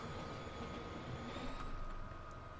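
A train rolls along the track in Transport Fever 2, a steady low rumble with faint wheel clatter and squeal, moderately distant and continuous, with no voices.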